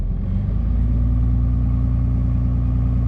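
A small engine idles steadily at low speed rather than at high idle, a loud, close, even rumble with a regular pulsing beat and no talk over it.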